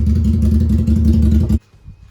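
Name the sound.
vehicle pulling away towing a loaded trailer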